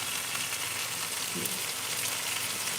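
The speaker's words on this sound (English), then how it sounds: "we've got one side seared, and we're working on the side now" Meat searing in a hot pan gives a steady, even sizzle that runs unbroken and fairly close the whole time.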